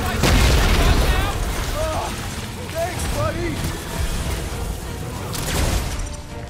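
Bomb explosions in Marvel's Guardians of the Galaxy, heavy booming blasts, one big one at the start and more later, beneath urgent voices talking over a chaotic game mix.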